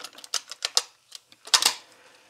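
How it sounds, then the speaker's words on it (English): Cassette tape pushed into an Aiwa HS-PX547 personal cassette player, with a quick series of close plastic clicks and rattles, then a louder snap as it seats. "So now is the time to just put some tape in there and see how it sounds like"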